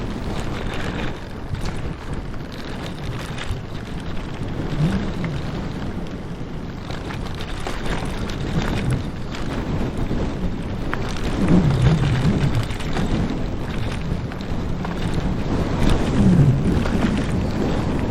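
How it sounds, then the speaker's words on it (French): Wind gusts buffet a loosely mounted GoPro camera outdoors, making a continuous low rumbling roar that swells in stronger gusts around the middle and end. "il y a du vent, je pense qu'on doit l'entendre"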